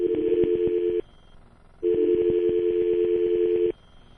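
A telephone line drops out into tones: two long bursts of a steady electronic tone with a pulsing beat, separated by a short near-silent gap, loud and close with no voices.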